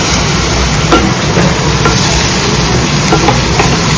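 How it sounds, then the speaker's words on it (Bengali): Garlic fries in a pan with a loud, constant sizzle, broken by occasional scraping stirs close by. "রসুনটা ভাজা ভাজা হয়ে গেছে।"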